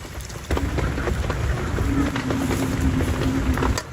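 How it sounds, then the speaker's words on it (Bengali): Heavy rain pours steadily outdoors with a dense, even hiss during home cooking of small river fish, while a voice speaks faintly beneath the downpour. "আজকে বাইরে প্রচুর পরিমাণ বৃষ্টি হইতেছে"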